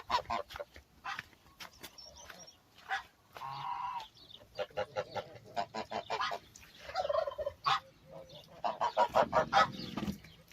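Geese honk near a brooding turkey hen on a farm, with repeated loud, close honks in irregular bursts and some gobbling-like calls, growing busier toward the end.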